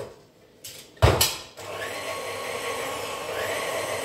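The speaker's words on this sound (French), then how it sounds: "pendant que mon robot mélange" A food processor mixes carrot waffle batter: a couple of clunks and a brief surge, then a steady whirring motor hum that runs on at moderate loudness to the end.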